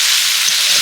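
Raw mango pickle frying and being stirred in a pan with Kashmiri red chilli powder, giving a steady, loud, close sizzle with no pauses.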